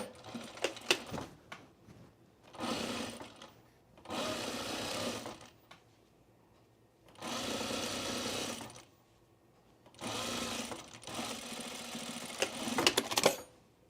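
A sewing machine stitches the petal sleeve of a pre-quilted Tamarack jacket in four or five bursts of steady whirring a couple of seconds each, separated by quiet pauses, heard up close.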